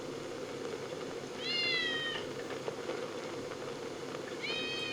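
A cat in the video game Icewind Dale II gives two clear, moderately loud meows, one after about a second and a half and another near the end, over a steady low ambient game hum.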